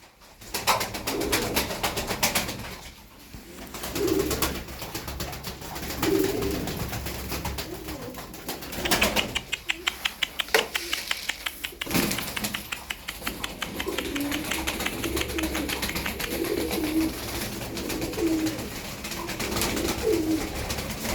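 A group of twelve tumbler pigeons cooing, soft repeated throaty coos scattered through a steady hum, with fluttering or rattling bursts in the middle.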